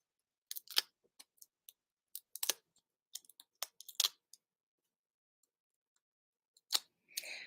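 Scissors snip paper for a farm-themed handmade card, a series of crisp close cuts coming in quick irregular bursts with short pauses, no voices.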